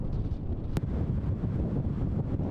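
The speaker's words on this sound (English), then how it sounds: "A round of Santa Ana winds whistling through San Diego County valleys and mountain areas" Santa Ana winds gusting through San Diego County valleys and mountain areas, captured as a low, rumbling buffet of wind against the microphone with one sharp crackle partway through; moderately loud and continuous, with no voices.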